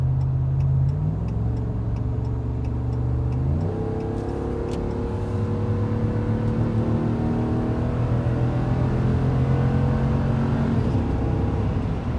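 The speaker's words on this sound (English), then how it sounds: "That was like half throttle and I hit 93 miles an hour right there" A 2016 Ram 2500 pickup truck accelerates hard at half throttle, its engine note climbing steadily through gear changes with a loud, continuous drone from start to finish.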